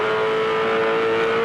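A 2007 V8 Supercar race car engine drones loudly and steadily on track, heard close up from the car with a constant strong engine tone throughout.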